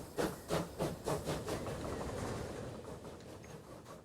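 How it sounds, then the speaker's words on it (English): A passenger steam train in the Transport Fever 2 game chuffs in a quick run of about six regular puffs, then settles into a steady, moderately loud hiss of steam with a faint rolling rumble underneath. "we can finally start our first ever passengers train on the map"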